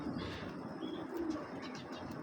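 Pigeons coo in short, low, rolling bursts nearby, with a steady bed of ambient noise and a few faint higher chirps mixed in.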